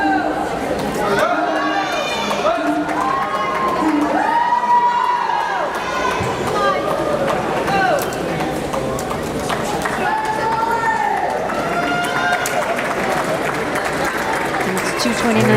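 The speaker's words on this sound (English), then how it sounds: "Cheering Jolie on over here in lane 2 as she comes in for a finish." A crowd cheers a swimmer finishing a race at a middle school swim meet in an indoor pool, loud, continuous shouting and voices with whistles and calls throughout.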